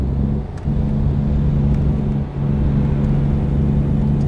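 A heavy truck in American Truck Simulator rolls down a hill, its engine a steady low droning rumble with a constant hum, loud and close, without speech.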